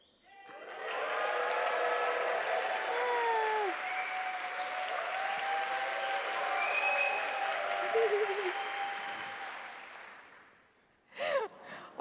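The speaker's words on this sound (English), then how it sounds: "Give him a cheer." A conference audience at a talk on web animation cheers and applauds loudly for about ten seconds, then the noise dies away, leaving a few brief sounds.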